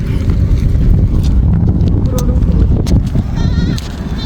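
A herd of goats bleating nearby on a rural road in Gujarat, several overlapping calls over a busy outdoor rumble, with voices and a few hoof-like clops mixed in.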